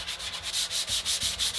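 A guitar body is sanded by hand in short, even back-and-forth strokes, a close, rhythmic rasping that repeats about a dozen times with no talk.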